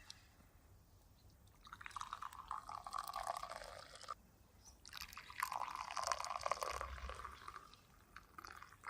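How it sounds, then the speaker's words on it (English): Hands are rinsed with water beside a lake, two soft splashing, trickling passes of a few seconds each over quiet outdoor background. "there he goes to wash his hands off"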